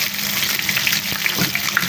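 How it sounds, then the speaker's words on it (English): Ginger and garlic frying in a pan for a fish dhal curry, a loud, close, steady sizzle with a bright hiss and faint crackles throughout. "When our ginger and garlic also becoming fried"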